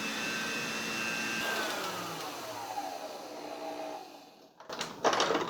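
An electric stand mixer whirs steadily as it mixes batter, a continuous motor hum that shifts in pitch, followed by a few clatters near the end.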